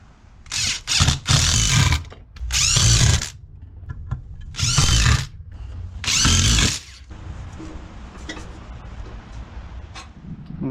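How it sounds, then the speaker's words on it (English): Wood lathe turning a block of pine timber into a handrail, cutting in loud bursts of a couple of seconds each with quieter gaps of motor hum between them, close and without talk. "I've set the lathe up and I'm going to turn this piece of timber here into a handrail."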